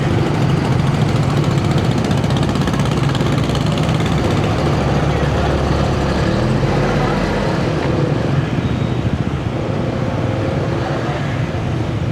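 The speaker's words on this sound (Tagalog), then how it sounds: "Traffic naman kasi dito." Vehicle engines idle and drone in dense traffic on a concrete city road, heard from a motorcycle as a loud, continuous low rumble mixed with wind-like noise that stays steady throughout.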